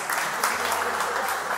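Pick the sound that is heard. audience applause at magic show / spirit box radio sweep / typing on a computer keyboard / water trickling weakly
audience applause at magic show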